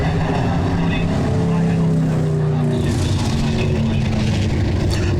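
Stock car engines roar down the front stretch of an oval at a weekly racing series stock car memorial event, a loud droning blend of several motors with shifting pitch, and a voice faintly audible underneath.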